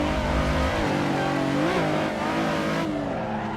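Nissan 350Z drift car from the DWG pack in Assetto Corsa, engine revving loud and close with rising and falling pitch sweeps and tire squeal, sustained throughout with a brief dip near the end.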